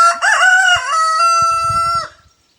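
A rooster crows once, loud and close, a full rising-then-sustained cock-a-doodle-doo lasting about two seconds before cutting off.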